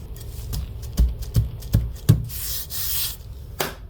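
Sandpaper on a leveling beam rubs back and forth across guitar frets in a steady series of close, gritty strokes that grow into a longer continuous scrubbing near the end.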